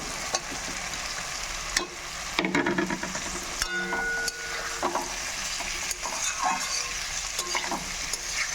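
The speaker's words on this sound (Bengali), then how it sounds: "নাড়াচাড়া করে নেব এবার দিয়ে দেব ভেজে রাখা আলু" Fried potatoes are stirred into chillies and spices in a hot pan for a vegetarian Bengali chana dal and potato curry, with steady close sizzling and repeated spoon scrapes, and no talking.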